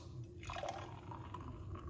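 Beetroot juice pouring steadily into a container, a continuous splashing trickle at close range with no voices.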